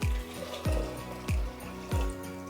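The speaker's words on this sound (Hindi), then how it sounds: "अब इसमें जाएगा डबल क्वांटिटी का पानी यानी कि 700 ml।" Water is poured into a pressure cooker holding washed, soaked dal, 700 ml in all, landing in four separate splashing glugs that start and stop at a steady pace.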